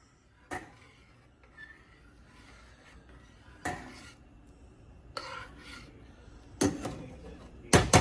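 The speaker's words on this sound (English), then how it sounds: "So the rice is starting to simmer a little. I'm going to stir it somewhat." Spoon scraping and clinking against a pot of simmering rice, in a handful of sparse, close metallic knocks over quiet kitchen background.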